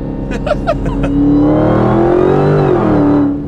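A 1000 hp Dodge Hellcat in sport mode accelerates hard, a loud close engine roar rising steadily in pitch after a few quick revving bursts, then easing near the end.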